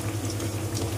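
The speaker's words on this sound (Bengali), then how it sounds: "এবার আমি এগুলোকে উল্টে পাল্টে লাল লাল করে 2 পিঠটা ভেজে নেব" Potato snacks frying in hot oil in a pan, a steady dense bubbling sizzle that holds evenly through the short moment with no voices.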